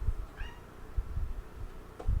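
A domestic cat gives one short, rising meow at moderate distance, heard alone over a low background hum with faint handling noises.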